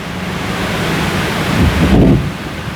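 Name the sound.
wind blowing after Hurricane Helene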